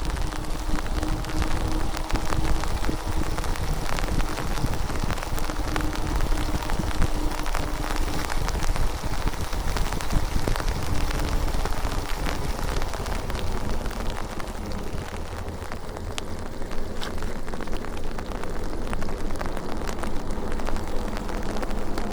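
Steady rain falls during an e-bike ride, a continuous hiss of drops and spray mixed with rumbling wind buffeting the microphone, fairly even throughout with no talking.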